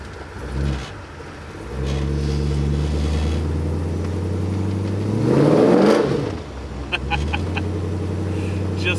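Restomod 1957 Chevrolet Bel Air revving and accelerating, with deep engine harmonics climbing in a loud surge before settling back, close and strong with no voices.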